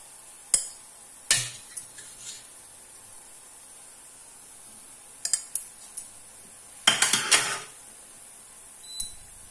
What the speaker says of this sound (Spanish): Le sacamos el chorizo y la morcilla, que se la vamos a trocear